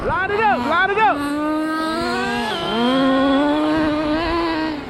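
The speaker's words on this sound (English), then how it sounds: "We're gonna take a drag race right here." Nitro RC cars rev their small engines in high buzzing whines with sharp repeated blips, then hold a steady climbing drone as they accelerate in a drag race, loud and close, with people talking over them.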